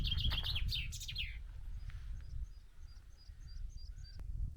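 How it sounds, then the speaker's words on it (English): Several bright, rapid bird song phrases ring out near the start along a walk in the Peak District, identified as a chaffinch, then thin high chirps repeat faintly over low wind rumble. "I think that's a chaffinch."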